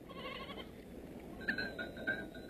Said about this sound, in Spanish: ¡Caramba, cuántas cabras!